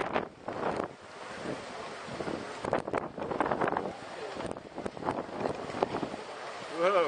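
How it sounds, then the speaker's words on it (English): Strong gusts buffet the camera microphone outdoors, a loud, continuous rumbling roar that swells and dips throughout. "the wind's come up so strong, it looks like it's blowing the camera"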